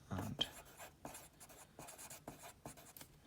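A pencil writes a title on a hand-drawn sketch map, making quiet, close scratchy strokes in short irregular bursts with brief pauses between letters.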